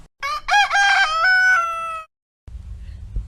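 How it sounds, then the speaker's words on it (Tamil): A rooster crows once, loud and close, a long drawn-out cock-a-doodle-doo, followed by silence and a low rumble. "சேவல் அதிகாலையில் எழுப்பும் சத்தத்தை கேட்போமா?"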